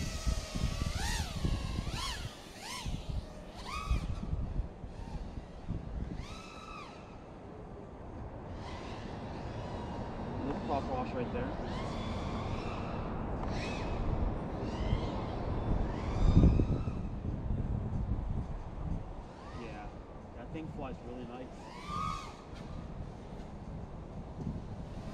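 A small FPV racing drone whines through the air, its motors rising and falling in sharp pitch sweeps as it throttles up and banks, sometimes near and loud, sometimes fading away.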